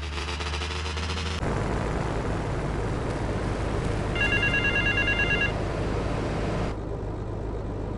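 A payphone rings in Little Havana in the video game GTA Vice City: a short burst of electronic ringing over steady game background noise, with a car-like rumble and ambient hum around it.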